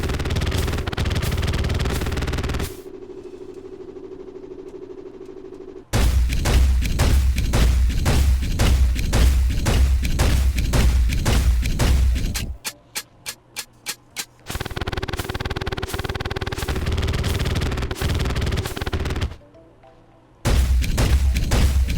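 A modded gun in Terraria fires in long runs of rapid, loud, booming shots, broken by short pauses and a quick stutter of separate blasts, with energy-sphere bursts in the mix.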